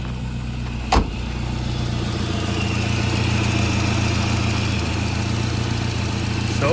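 A classic Saab 900 with a recent fuel leak idles steadily, its engine a close, even mechanical rumble, opened by a sharp click or knock.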